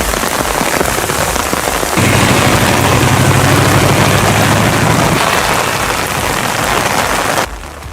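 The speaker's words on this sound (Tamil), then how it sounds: "தமிழகத்தில் தீவிரமடைந்தது வடகிழக்கு பருவமழை." Heavy northeast monsoon rain pours down in Tamil Nadu, a loud, dense, continuous hiss of drops on surfaces with a low rumble swelling partway through before easing, then an abrupt cutoff.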